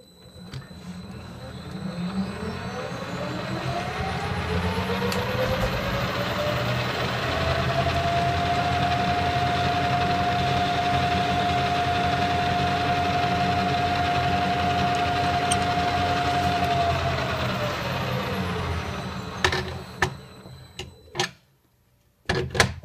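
Metal lathe running at 715 RPM while turning a metal test punch, a steady whirring hum with a rising tonal whine as the spindle speeds up, holding, then winding down, followed by a few clunks.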